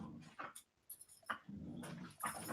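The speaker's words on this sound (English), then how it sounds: "We got a dog battle going on back there?" Dogs growling and scuffling in a fight somewhere behind the room, rough snarls and whimpering yelps coming in short irregular bursts, moderately close and fairly quiet.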